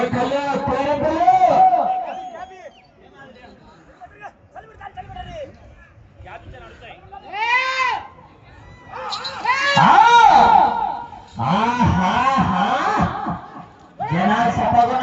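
Crowd at an outdoor bull race shouting and cheering in loud surging bursts, rising and falling several times, mixed with an announcer talking over a loudspeaker.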